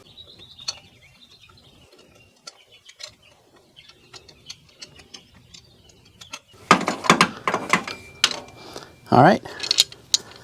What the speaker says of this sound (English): so I'm going to use this ratcheting wrench